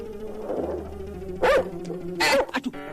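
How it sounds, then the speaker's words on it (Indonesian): Sharp dog barks from a fierce guard dog in a comedy film scene, two loud bursts around a low steady background hum, followed by a few quicker yips at the end. "anjing gonggong"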